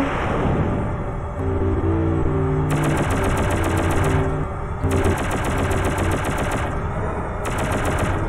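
Rapid machine-gun fire in a video game, bursts of fast rattling shots repeating in several loud stretches over a steady backdrop of game music and rumble.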